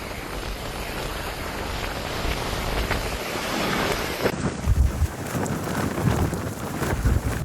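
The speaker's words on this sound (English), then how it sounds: "Powerful gusts reaching up to 90 miles per hour hit coastal and northern areas" Storm Bram batters the UK coast with strong wind and surging waves, a constant roaring rush with heavy wind buffeting on the microphone and deeper thuds of surf toward the end.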